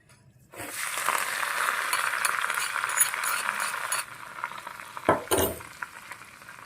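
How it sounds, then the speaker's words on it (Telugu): Hot tempering with asafoetida poured over fresh amla chutney, bursting into a loud, steady sizzle that holds for a few seconds, then fades, followed by a couple of brief clinks of a utensil. "ఇప్పుడు దీని మీద కొంచెం కొత్తిమీర, పచ్చి కొత్తిమీర కొంచెం జల్లేసుకొని కమ్మగా పోపు వేసుకొచ్చాను చూడండి."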